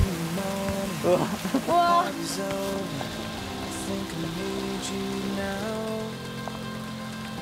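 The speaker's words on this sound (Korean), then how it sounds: "원래 이렇게 비가 올 때는 어떻게 하시나요?" Rain falls at a ranch on Jeju as a steady background hiss, while voices exclaim and talk over it.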